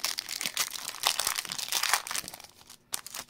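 Pokémon card booster pack wrappers are torn open and handled, giving close, bursty crinkling and crackling of foil plastic in quick irregular rustles, quieting briefly near the end.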